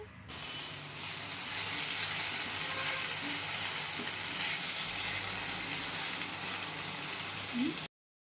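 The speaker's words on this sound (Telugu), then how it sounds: "ఆనియన్స్ కొంచెం బ్రౌన్ కలర్లోకి మారుతున్నంతసేపు వరకు కుక్ చేసుకోవాలి" Onions with dry coconut and poppy seeds fry in a pan until they start to brown, giving a steady, close sizzling hiss that holds evenly for several seconds, then cuts off.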